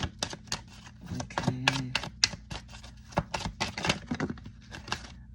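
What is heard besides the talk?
tarot cards being shuffled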